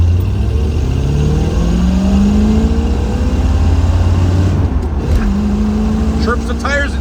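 A 1975 Chevrolet Corvette Stingray accelerates hard on a test drive, its engine note climbing steadily through the gears as a loud, continuous roar, with a brief dip around a shift and tire and road noise underneath.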